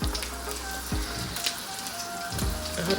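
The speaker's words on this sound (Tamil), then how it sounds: "பேன் கேக் நாங்கள் இப்போ விட்டுட்டோம். வேகட்டும்." Banana pancake batter sizzles in a frying pan, a soft steady crackle and hiss close by, broken by a few brief clinks and light kitchen knocks, with no talk.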